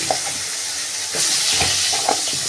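Chunks of green banana and potato drop into hot oil seasoned with dry red chilli, bay leaf and cumin, setting off a loud, steady, close sizzle with stirring clatter, bursting brighter about halfway through.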